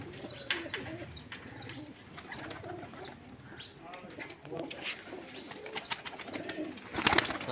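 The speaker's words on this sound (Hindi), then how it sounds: "कबूतर बहुत शानदार है" Pigeons coo softly at a moderate distance in a fancier's loft, their low murmuring calls repeating under a layer of chirps and background chatter.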